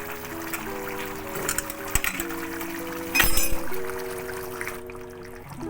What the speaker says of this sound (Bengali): এর মধ্যে কড়াইশুঁটি ছড়িয়ে দিলাম।